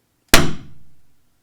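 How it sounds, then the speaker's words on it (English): A single sharp metallic strike of a hammer on a center punch, marking a drill hole for mounting an LED rock light; one loud, close impact with a short ringing decay, no talking. "So then I get my punch, and I just put my punch inside the hole,"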